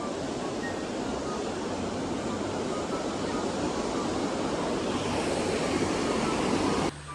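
Strong river current rushing at Wawa Dam in Rodriguez, Rizal, a loud, steady broadband roar of churning water that holds without pause from start to end.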